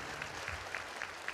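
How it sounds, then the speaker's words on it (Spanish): A church congregation gives a strong round of applause at a healing and deliverance Mass, steady clapping heard softly, a little distant, with no voices over it. "Ese aplauso fuerte a Jesús."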